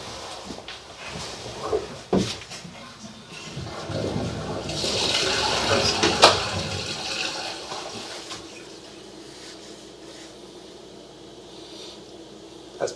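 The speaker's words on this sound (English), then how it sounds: "Go ahead and flush the toilet." A toilet in a building with broken plumbing is flushed, giving a close, loud rushing swell of water that peaks mid-way and then trails off into a quieter refill trickle, with a few clunks around it.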